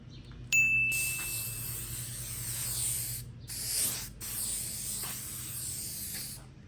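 Clear shellac sprayed from an aerosol can onto a wooden furniture piece, a steady close hiss in several bursts with short pauses, preceded by a brief metallic ding from the can.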